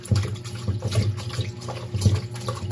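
Fresh anchovies being washed for fermented fish paste, with water sloshing and splashing as the fish are rinsed and stirred in a basin, close and steady.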